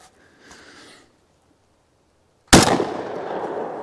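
A Citadel Bosshog ATAC 12 gauge shotgun fires one loud, close blast that rings out and decays after a quiet pause, preceded by faint rustling, with no speech.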